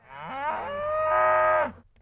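A single cow gives one long, clear moo at a mountain buckaroo cattle camp in Oregon, close and fairly loud, rising then holding steady before it fades out, with no voices.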